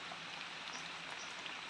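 Steady rain hissing on a surface around a pig pen, a dense even patter with no voices, constant in level throughout.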